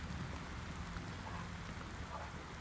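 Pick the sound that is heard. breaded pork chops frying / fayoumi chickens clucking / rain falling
rain falling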